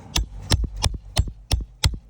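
Hammer striking a nail through an asphalt shingle roof tab, six sharp, evenly spaced blows about a third of a second apart, each with a softer rebound tap right after, close and loud with no talk.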